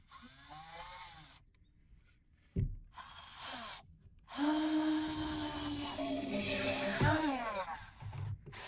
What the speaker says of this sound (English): So I'm just going to toenail them with a 3-inch screw to the form.